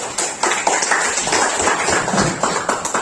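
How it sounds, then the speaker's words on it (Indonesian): Classroom group applauding as a student group steps up to present, a dense spell of clapping lasting a few seconds, fairly loud and close with no talk over it. "Tepuk tangan untuk kelompok dulu."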